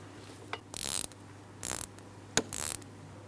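A hand ratchet loosens a bolt on the engine of a 2003-2007 Cadillac CTS 3.6L V6 during valve cover work, with three quick bursts of rapid clicking separated by short pauses and a sharp tap, close and alone.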